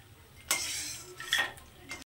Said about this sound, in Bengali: এখন বড়িগুলোকে আমি তুলে নিচ্ছি।